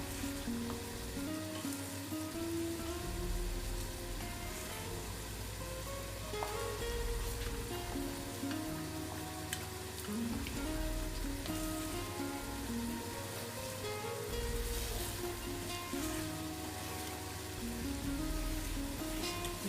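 Eggs and onion cooking together in a pan for pastilla, a continuous dense sizzle and crackle with occasional stirring scrapes, close up and steady without any voices.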